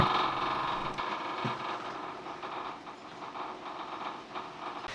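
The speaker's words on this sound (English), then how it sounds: "The pump makes a fairly loud noise" A loud, steady mechanical hum and whir from an engine fuel pump running continuously to circulate fuel before air is bled from the system, with a faint rhythmic pulsing underneath and no talking.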